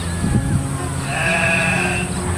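Sheep bleat during a cool hillside harvest gathering, a drawn-out wavering call rising out of steady ambient noise, with faint talk early on.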